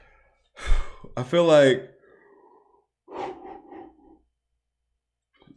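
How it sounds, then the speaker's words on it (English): A person gives a long, breathy yawn with a rising, wavering voiced middle, then a softer trailing exhale a moment later, close and fairly loud between a brief spoken word. "sorry for my yawning"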